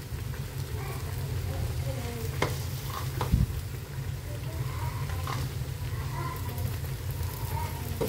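Bitter gourd cooked with lentils sizzles steadily in a pan while being stirred, with soft scraping and occasional clinks over a continuous frying hiss, and someone talks over it.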